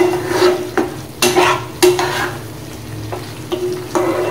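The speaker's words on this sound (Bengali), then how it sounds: "দিয়ে দেওয়ার পর খুব ভালোভাবে মাংসটার সাথে মিশাইয়ে নেব।" Chicken curry meat being stirred with a spice mixture in a pan, giving loud, close, repeated scraping strokes in a steady rhythm over a soft sizzle.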